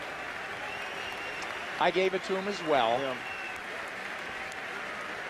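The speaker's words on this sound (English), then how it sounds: "I give it to this crowd ringside in Switzerland for applauding the They're action." A ringside crowd at a boxing match in Switzerland keeps up steady, muffled applause and crowd noise under two commentators talking over it.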